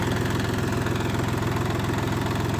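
A Dongfeng 244G2 tractor engine idles at low revs, a loud, close, steady diesel chug with a rapid even pulse and no voices.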